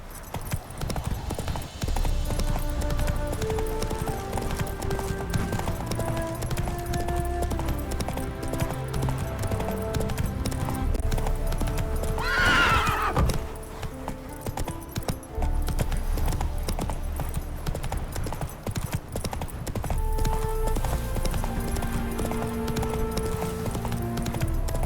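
Horse hooves clip-clop steadily throughout in The Witcher 3, a continuous rhythmic beat under a full orchestral music score, with a brief rising whoosh midway.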